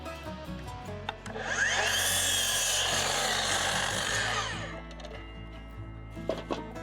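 A miter saw slices through a deck board for a 6x14-foot deck, a loud broadband whine swelling for about three seconds then winding down, with quieter workshop clatter before and after.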